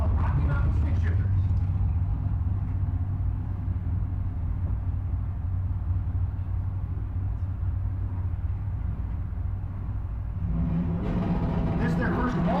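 Stick-shift rear-wheel-drive cars with no traction control in a qualifying session, a steady loud engine rumble passing nearby that swells again at the end, with a voice talking over it.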